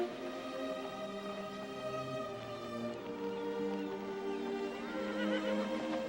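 A horse neighs in a long, wavering whinny close by, with a second call rising over it later, out on the trail in a western drama.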